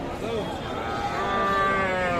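Cattle and small calves at the Current livestock market in Chirirbandar, Dinajpur, lowing with drawn-out, rising moos over a crowd murmur and faint voices nearby.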